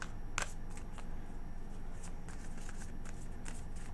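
Tarot cards are shuffled in quick riffling bursts, a soft crisp flutter repeating several times at close range over a low background hum.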